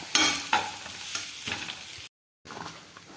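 A mashed potato mixture for potato bonda is stirred in a pan, with brisk, close scraping strokes over a light sizzle that stop for a brief dead-silent gap before resuming.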